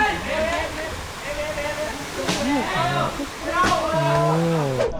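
The third tier of Chan Ta Then waterfall in Chonburi pours in a steady broadband rush, with people talking over it most of the time.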